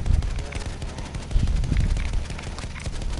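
Rapid, continuous gunfire aimed at a bomber in a Battlefield video game, a dense rattling barrage with deep thumping shots that goes on throughout.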